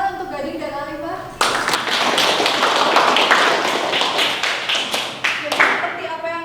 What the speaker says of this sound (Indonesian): Beri tepuk tangan untuk Gading dan Alifah.